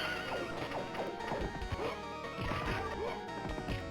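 Horses in a Capcom beat 'em up video game neigh and whinny several times in short bursts, mixed with hoof clops and punch impacts from the game.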